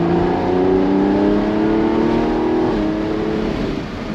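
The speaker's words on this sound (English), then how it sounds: "Ready for the downshift? Here we go." A car engine revs hard in a sustained, loud roar through a downshift, its pitch holding steady and then dropping briefly before settling, with no voices over it.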